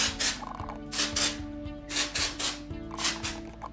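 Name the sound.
spraying hairspray onto hair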